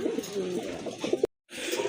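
A pair of red pigeons coo in soft, close, repeated throaty notes, broken by a brief silent gap before quieter sound resumes.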